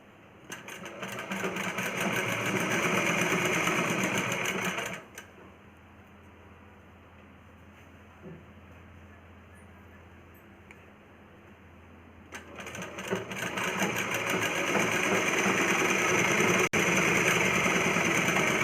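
A sewing machine runs in two long steady stitching bursts while sewing a plain cross-cut blouse, loud and close, separated by several seconds of quieter hum.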